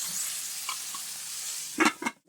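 Vegetables for a village-style taro root curry sizzle in a pan with a steady hiss, then two or three louder clattering stirs near the end before the sound cuts off.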